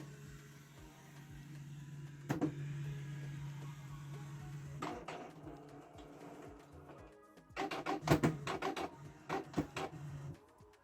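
A Canon PIXMA G3410 inkjet printer powering up after being switched on gives a low mechanical whir for a few seconds, then bursts of clicking and rattling as the print head and rollers move, quiet and close with pauses between the bursts.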